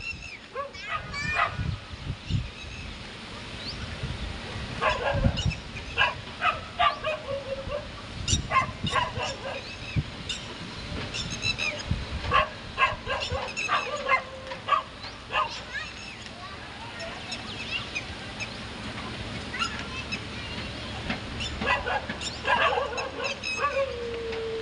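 Several dogs outdoors bark, yip and whimper in scattered bursts, some near and some farther off, mixed with a person talking throughout.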